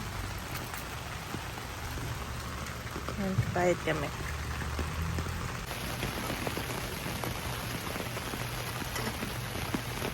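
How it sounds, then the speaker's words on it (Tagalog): Steady heavy rain on Bowen Island, near Vancouver, hisses and patters on a hard surface, broad and continuous, while a voice talks briefly over it. "sobrang ulan na oh"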